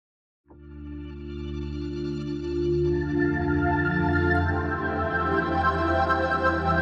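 Fluttering Away, a Dreamstate synth preset for Novum, swells in after a brief silence as a sustained, layered pad with a rich harmonic stack, growing brighter and denser with a gently wavering, fluttering texture throughout.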